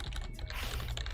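Rapid keystrokes clatter on a computer keyboard, close and clear, a quick uneven run of clicks filling the short moment without any talk.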